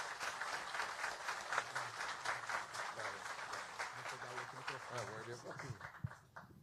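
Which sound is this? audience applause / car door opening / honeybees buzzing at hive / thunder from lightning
audience applause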